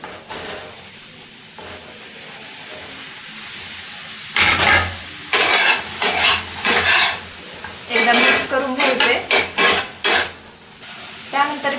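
Chopped onion and tomato are stirred in a pan: a soft hiss at first, then a run of loud, rhythmic scraping strokes of a spoon against metal over a faint sizzle, with no talking.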